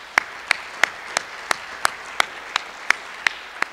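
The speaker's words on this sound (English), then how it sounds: "So let's give them another round of applause." Sparse applause at a Little Elm Chamber of Commerce community meeting, a single clapper's sharp, evenly spaced claps, about eleven in under four seconds, close and clear.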